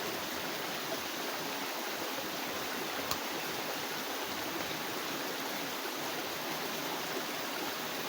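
Running water used for rinsing, a steady, even rush of splashing flow heard up close throughout, with no voices.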